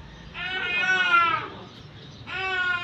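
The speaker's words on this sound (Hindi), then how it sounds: "रोने की आवाज़ आ रही है" A baby cries in two wailing bursts, the first long and the second starting just as the clip ends, close by with light background noise.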